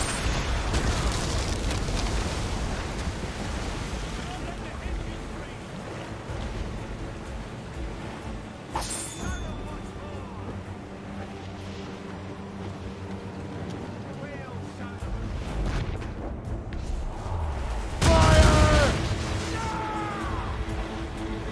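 Ship cannons fire in a naval battle in Assassin's Creed Rogue, heavy booming blasts and rumbling recurring through the stretch with a loud burst near the end, under shouted crew commands and talk.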